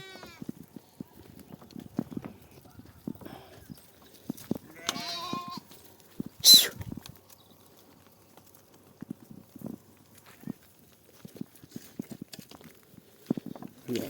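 Sheep bleat in a hungry flock grazing on sparse, dry grass, with one clear bleat standing out among soft shuffling and scattered rustling noises, fairly distant and quiet overall.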